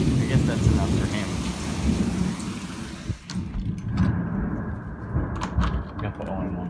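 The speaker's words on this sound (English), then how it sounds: "It's just a storm." A thunderstorm with rain in Sherman, Texas: low rolling thunder rumbles under a constant wash of rainfall, with a brief knock partway through and faint voices in the background.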